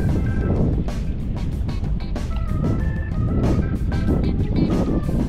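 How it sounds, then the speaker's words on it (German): Strong, freshening wind gusts over open water during kayak fishing, buffeting the microphone with loud, uneven rushing bursts throughout. "Der Wind ist gut aufgefrischt"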